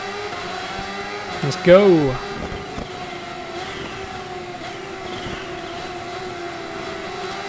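A Kawasaki Ninja H2R superbike engine in Ride 4 drones steadily through a race against AI riders, a continuous even hum. A voice speaks briefly near the start over a short rising whine.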